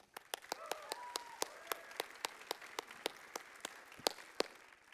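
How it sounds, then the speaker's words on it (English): Sparse, faint clapping from a small audience at a security conference talk, with distinct evenly spaced claps and a brief murmur of voices underneath. "a big round of applause for both Maya and Whitney."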